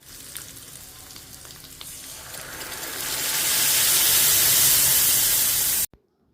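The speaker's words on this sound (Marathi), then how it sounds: "या मस्त खमंग फोडणीमध्ये घोटून घेतलेली डाळ घालायची आहे" A quiet kitchen clatter gives way to a loud, swelling sizzle as wet ground dal is poured into hot oil tempering, then cuts off abruptly.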